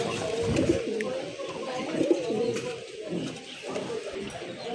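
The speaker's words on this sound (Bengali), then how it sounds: "এই এক জোড়া কবুতর মাশাল্লাহ, ডান পাশেরটা মাদি, বামেরটা নর" A pair of pigeons, one male and one female, coo softly in repeated low murmurs close by, with faint background noise.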